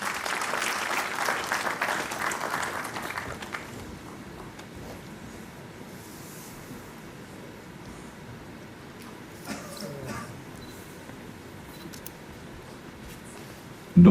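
An audience at a university convocation ceremony applauds for about three and a half seconds as a guest is called to the stage, then the clapping gives way to a quiet, hollow hall.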